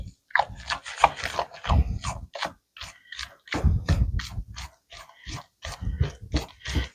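A spatula scrapes the sides of a mixing bowl of gluten-free zucchini bread batter in short, quick rubbing strokes, close and fairly quiet, in an uneven rhythm.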